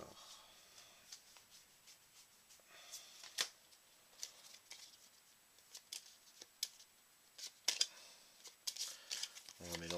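Cards from The 7th Continent board game are shuffled by hand close up, making a series of quick riffling flicks and light papery slaps at an irregular rhythm, soft and intimate with a quiet background.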